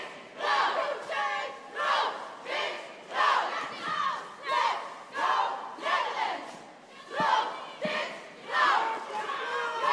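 Crowd at an all-girls and coed elite cheerleading competition yelling in rhythmic unison, loud chanted bursts repeating about once a second across the whole stretch.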